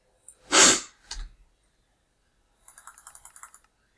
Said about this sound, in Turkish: Demin bir hapşırdım bu arada.